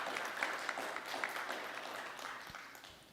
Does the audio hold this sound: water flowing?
no